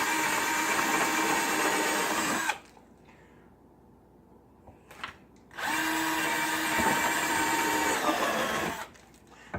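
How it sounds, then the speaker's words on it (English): A cordless drill bores holes for a homemade spice rack, a loud steady whine running for a couple of seconds, stopping, then starting again for another long burst before cutting out. "let's hope and pray that my drill doesn't die in the video"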